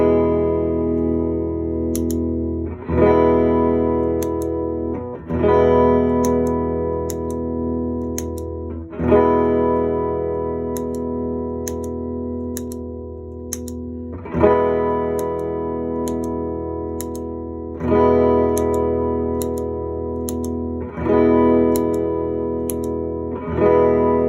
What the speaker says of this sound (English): I'm going to start with this the question mark, the DOD overdrive, and I'm going to engage that loop.